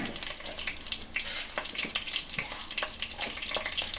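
Cumin seeds sizzle in hot sesame oil with fenugreek, a steady close frying hiss with small crackling pops throughout, for a dry fish curry.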